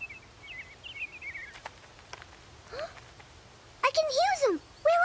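Cartoon birds chirp and trill in short bursts, a thin high twitter early on and then louder swooping calls near the end, set against a quiet outdoor backdrop during a birdwatching outing.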